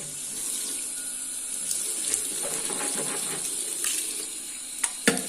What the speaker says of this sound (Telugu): ఇదే ఇటు తిప్పితే హాట్ వాటర్ ప్రతి ఒక్క కొలాయిలో ఇంట్లో ఈ రూమ్లో ఉన్న ప్రతి ఒక్క కొలాయిలో ప్రతి ఒక్క చోట హాట్ వాటర్ వస్తున్నాయి